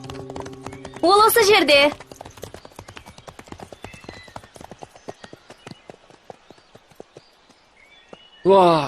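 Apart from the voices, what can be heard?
horses' hooves clip-clopping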